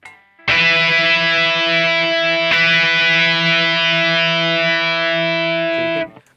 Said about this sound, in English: You can hear there was a little bit of oscillation now.